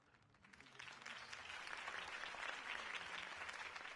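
A crowd applauding in a Telltale Batman video game, steady clapping that swells after a moment and holds at a fairly even level, sounding a little distant.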